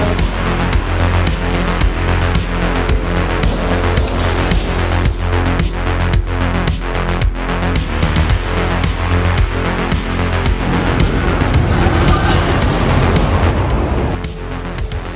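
A ride on Apocalypse, a roller coaster at Six Flags Magic Mountain, heard from on board: a loud, steady rumbling roar filled with rapid, regular clacks from the track, easing slightly near the end.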